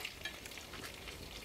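Chicken kabab pieces deep frying submerged in hot oil, a steady soft crackling sizzle running evenly throughout at low volume with no voices.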